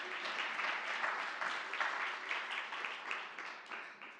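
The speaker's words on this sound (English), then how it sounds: "I want everybody to give yourself a round of applause for coming in so early and beating traffic." A conference audience at AWS Security Community Day applauding together: a dense, sustained wash of many hands clapping in a hall that slowly tapers toward the end.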